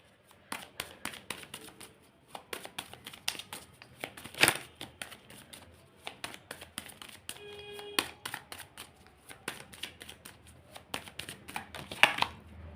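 Tarot cards are shuffled by hand in a string of quick, close riffling snaps and soft slaps, irregular bursts with short pauses between.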